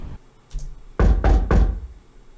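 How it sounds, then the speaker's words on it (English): Three heavy knocks on a door, made with the Unlock sound-design plugin, land close and loud in an even rhythm, preceded by a couple of softer taps. "So we'll use unlock for the door knocking."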